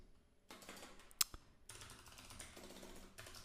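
Computer keyboard typing in bursts during a coding session, soft rapid key clicks with a sharper single clack and short pauses between runs, close but quiet, no voices.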